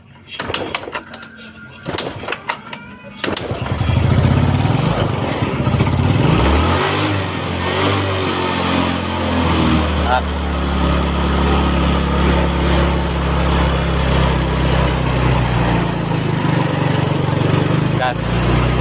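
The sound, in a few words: Yamaha Mio Sporty scooter engine revving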